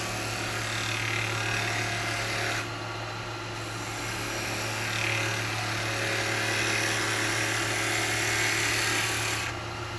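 Woodturning lathe spinning a wet eucalyptus blank for a cowboy hat as a chisel cuts just above centre; a steady motor hum carries a thin, continuous high whine, with the cutting noise easing briefly twice.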